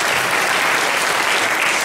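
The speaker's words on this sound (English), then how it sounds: "So great round of applause for the students for making this happen." Dense, steady audience applause for students at an evening lecture event, a brief full burst of many hands clapping close and loud with no talk over it.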